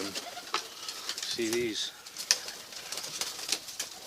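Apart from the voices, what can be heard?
tippler pigeons cooing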